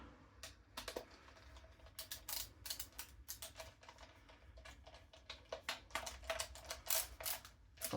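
A screw tightened into a Double Eagle M924 DMP-9 airsoft gun, with rapid clicking and ratcheting of the driver bit in dense bursts, close up and fairly quiet, no voices.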